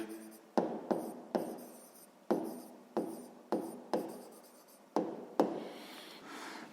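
A pen writing on paper while working a sixth-grade maths exercise, with a series of about ten quick, sharp taps and scratchy strokes up close, quiet and alone.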